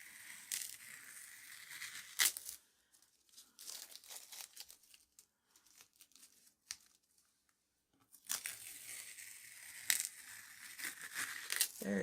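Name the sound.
tape being peeled off paper sheets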